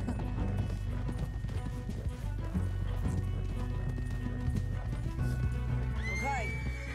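Steady clip-clop of horse hooves trots along a mountain path in Red Dead Redemption 2 throughout, with a horse whinnying near the end; game background sound underneath.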